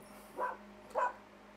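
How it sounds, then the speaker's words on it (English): Two short dog barks about half a second apart, moderately loud in a quiet outdoor setting during a cylinder lawnmower service, with a low steady hum beneath. "my dog barking"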